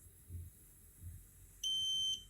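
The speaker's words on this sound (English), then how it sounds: "Yeah, you heard the beep." A Xiaomi Smart Air Purifier 4 Compact gives a single short, clear electronic beep as it resets, rising sharply out of quiet room noise.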